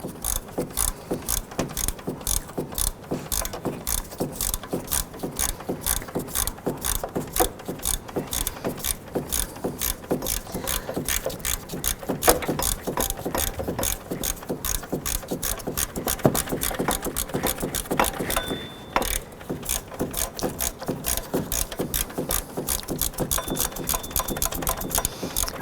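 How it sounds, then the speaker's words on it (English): A ratchet clicks rapidly and steadily, close up, as a lower alternator bolt on a 2007-11 Honda Civic is snugged down, with a brief pause near the end before the clicking resumes. "we're going to go ahead and snug up that lower, shorter alternator bolt."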